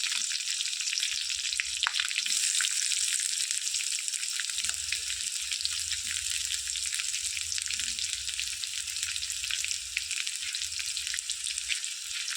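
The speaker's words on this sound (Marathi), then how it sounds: "कांदा असं हलवायचा लालसर थोडा करायचा कांदा" Chopped onion sizzling and frying in a pan as it is stirred, a steady loud hiss running throughout with occasional soft scraping, no voices.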